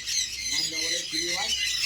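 Pet birds such as sun conures, cockatiels and lovebirds squawk at a bird farm, with shrill calls in a dense, continuous chorus.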